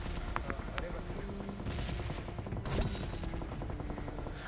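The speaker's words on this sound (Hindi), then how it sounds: "तभी हमको गन फाइट के साउंड आए" Rapid bursts of video game gunfire crackle continuously, with distant shots layered over a steady background din, sounding like a firefight at moderate distance.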